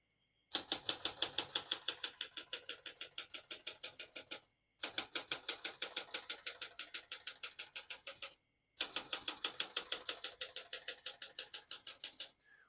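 Rapid, even clacking of a 1976 Olympia Ultra-Portable typewriter's keys in three long bursts separated by brief pauses, crisp and close.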